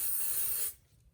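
Spray adhesive is applied to fabric on an embroidery hoop before tacking it down, a short, loud, steady aerosol hiss that cuts off abruptly, with no talk.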